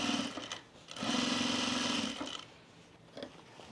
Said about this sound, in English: We can actually top stitch the entire length of the side seam.